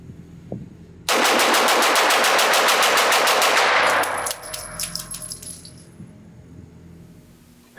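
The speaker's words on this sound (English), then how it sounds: "I know you guys always like to see the mag dumps." A CZ Shadow 2 competition pistol fires as fast as possible to empty its magazine, a loud rapid string of about fifteen close shots lasting three seconds, followed by brass casings clinking and ringing as they land.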